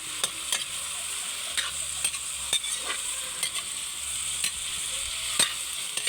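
Pork backbone frying in hot oil, a steady close sizzle broken by sharp scrapes and clinks of a utensil stirring the pieces in the pan at irregular intervals, with no talk.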